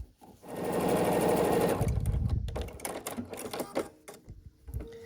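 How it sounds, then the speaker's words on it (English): Sewing machine stitching fabric for a quilted autumn pumpkin table runner block, a fast continuous mechanical whir for about two seconds, then stopping, followed by quieter handling clicks and rustles. "And we'll sew this across."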